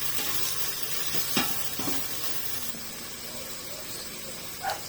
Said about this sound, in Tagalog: Ginigisa ko kasi talaga yan guys